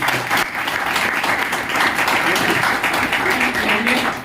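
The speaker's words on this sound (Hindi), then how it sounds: "एक बार मैं सबसे जोरदार तालियां चाहता हूँ" An audience at a celebration event in Gurgaon breaks into loud, sustained applause for the management, dense clapping throughout with voices audible underneath.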